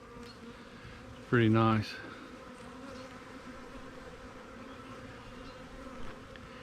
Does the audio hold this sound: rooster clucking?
no